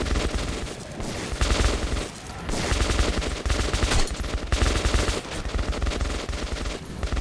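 Rapid automatic gunfire in the video game Metro 2033 Redux, loud sustained bursts of machine-gun fire with brief pauses between volleys.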